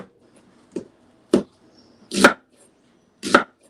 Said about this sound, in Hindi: अनियन को हमने बारीक स्लाइस करना है, इसको मोटा नहीं करना क्योंकि हमने इसको फ्राई करना है।